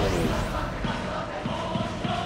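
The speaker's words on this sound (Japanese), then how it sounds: "ひときわ大きな声援が聞こえます。" A large crowd in a baseball video game, Giants versus Hanshin, cheers and roars steadily throughout, a dense wash of many voices with no single speaker standing out.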